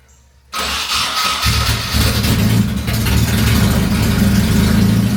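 Nissan S14 240SX engine cranks over after a brief silence, catches and settles into a steady, loud idle with slight revving, close to the microphone and with no talking.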